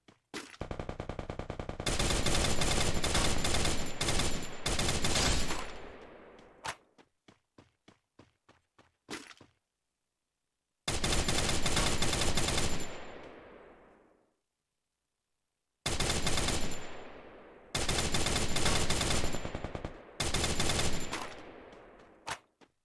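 Bursts of rapid automatic gunfire from the Free Fire video game, loud and close, in several long volleys of a few seconds each, separated by gaps of silence and a few sparse single shots.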